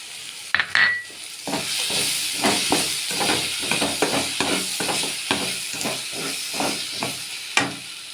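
Poppy seeds, cashews and white sesame frying in a pan for chicken gravy, a steady close sizzle with repeated stirring scrapes and clinks throughout, no talking.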